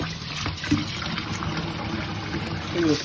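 Tap water runs steadily over goat intestines being rinsed clean, a close continuous splashing gush with brief wet squelches as the intestines are handled.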